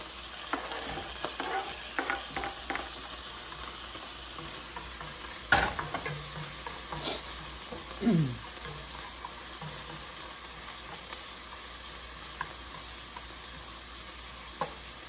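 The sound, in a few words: sautéing in oil in a pan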